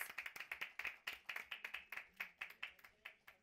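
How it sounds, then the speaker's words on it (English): Scattered rhythmic hand clapping from an audience at a film awards press conference, individual claps distinct and fairly quiet, with no talking over it. "Can we begin with a huge round of applause?"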